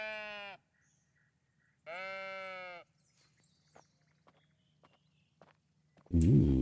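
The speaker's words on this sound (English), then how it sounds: "Sheep, what you doing in here?" Two sheep bleats ring out clearly in the cozy building game Tiny Glade, each long and wavering, separated by a pause, followed by soft scattered footsteps or clicks and a brief louder rustle at the end.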